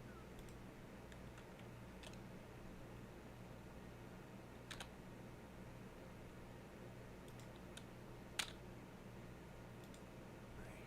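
A computer keyboard being typed on, with soft, sparse key clicks and a few sharper taps over a low, steady fan hum, heard close but quiet.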